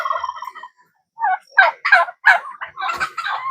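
Farm turkeys gobble and cluck near a summer coop, a run of loud, close, overlapping calls after a brief pause.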